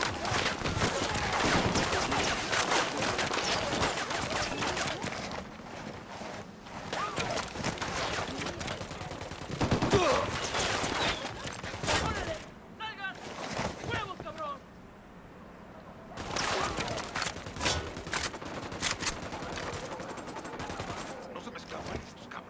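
Heavy gunfire erupts at a camp entrance in Ghost Recon Wildlands, near a prison village: dense rapid bursts and single shots crack almost nonstop, loud and close, with brief lulls between volleys.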